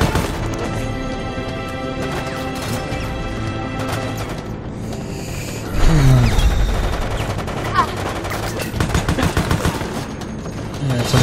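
Rapid bursts of gunfire from the video game Resident Evil Operation Raccoon City, with repeated shots and a louder crash of fire midway, dense and continuous throughout.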